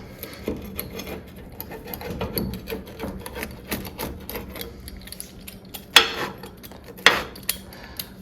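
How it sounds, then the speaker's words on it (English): A pizza cutter rolls through a Red Baron Cheese Trio frozen pizza with a thick crust on the edges, giving soft scraping and crunching clicks, with two sharper cracks near the end as the blade presses through the crust. "Nobody ever claimed I was a perfect pizza cutter, but I think it cut up pretty well."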